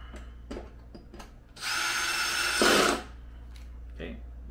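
Power driver on a Snoo bassinet, tightening screws during an O-ring repair: one steady whirring burst of about a second and a half, rising briefly in pitch before it stops, close up, with faint clicks and handling noise before and after.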